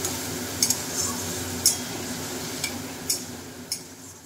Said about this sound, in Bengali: পেঁয়াজটা প্রথমে আমি লাল লাল করে ভেজে নেব